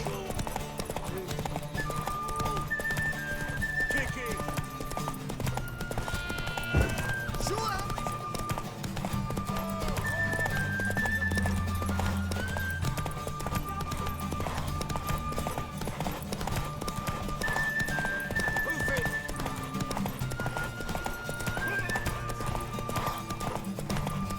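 Rhythmic hoofbeats of a galloping horse in the video game The Witcher 3: Wild Hunt run under music and speech, with a brief whinny standing out partway through.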